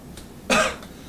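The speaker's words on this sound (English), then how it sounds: "He's coughing." A single short, rough cough from a man who smokes heavily bursts out close by, preceded and followed by faint throat sounds in a quiet room.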